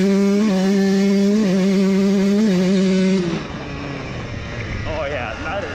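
Jetted two-stroke engine revving down a driveway, a loud buzzing drone that holds steady pitch with brief dips, then fades into a rougher, quieter rumble.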